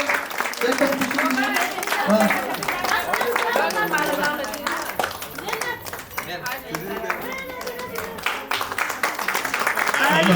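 Engagement guests for Sanjeev and Diksha clap steadily through the whole stretch, a dense continuous patter mixed with loud, overlapping talk and chatter close by.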